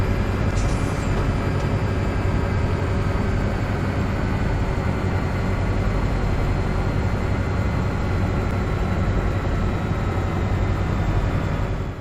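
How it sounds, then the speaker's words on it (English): A steady, heavy mechanical rumble of a train in Farming Simulator 17 as it slows down, dense and unchanging with a faint high whine above. "And the train does take some lead time to slow down."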